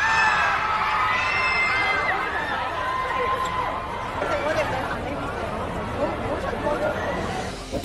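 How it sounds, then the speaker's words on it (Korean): Crowd of fans gathered outside a Hong Kong shopping mall, cheering and shouting in a continuous roar of voices and chatter that stays loud and dense throughout. "환호성을 지르기도 했습니다."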